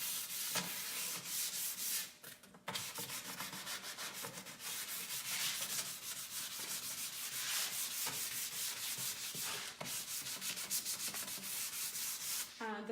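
Steady, continuous rasping of hand sanding along the edges of painted wooden furniture to distress the finish, with brief pauses and repeated strokes, close and moderately loud with no talking.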